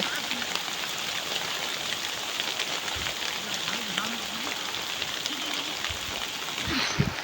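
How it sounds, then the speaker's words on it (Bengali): Rain falls as a steady hiss and patter on surfaces outdoors near hills, a constant wet texture with a few faint murmurs and small knocks under it. "তাতে কহে বৃষ্টি আউছে"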